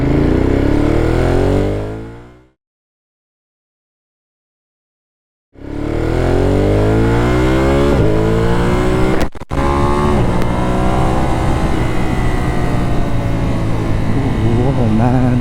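A 2025 Ducati Monster 937 two-cylinder engine revving close by, loud throttle blips rising and falling, cutting to near silence for a few seconds, then roaring back with repeated revs and a brief dropout.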